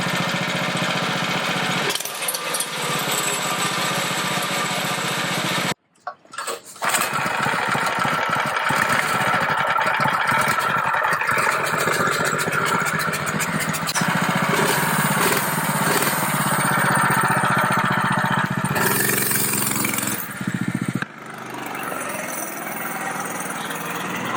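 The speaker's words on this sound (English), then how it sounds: "Yeah, that's a good idle speed." A Baja mini bike's small engine with a newly replaced carburetor idles steadily nearby, giving a loud, continuous putter. A brief break and a few sharp knocks interrupt it partway through.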